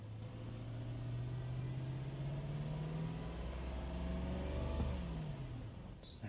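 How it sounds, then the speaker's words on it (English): A Lexus LS430 engine runs at idle, then rises in a smooth rev and falls back, heard from close by at a moderate level. "I always like to give it a little rev to make sure it"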